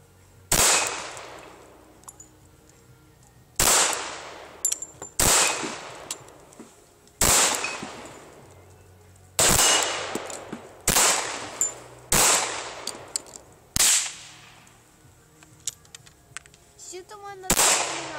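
A Remington 1911R1 pistol fires about nine sharp, loud shots at targets outdoors, spaced one to three seconds apart, each with a short echoing tail.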